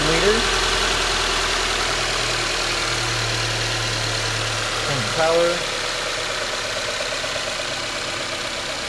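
A 2014 Subaru Forester's 2.5-liter engine idles at a steady low hum, with someone briefly speaking over it near the start and again around the middle.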